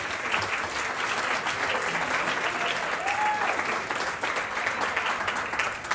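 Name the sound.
audience applause at wedding speeches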